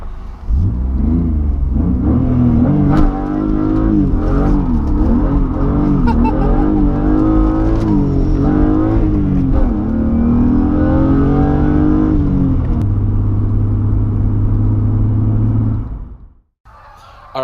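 A BMW E36 M3 drifts with its engine revving hard in repeated rising and falling sweeps, loud and close, settling into a steady high drone before cutting off near the end.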